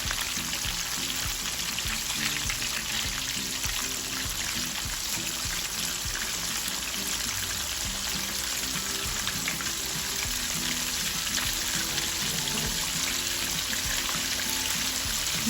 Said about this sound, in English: You'll want your oil that you're frying your chicken strips in at least 300 degrees.